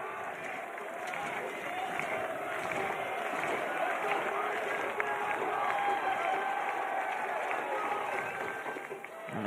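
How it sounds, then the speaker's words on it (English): Crowd at a college baseball game between Wake Forest and Duke rallying behind the pitcher during a full-count at-bat, a broad, sustained roar of cheering heard at a distance under steady commentary. "the crowd trying to get behind Burns as he doesn't get the strikeout there"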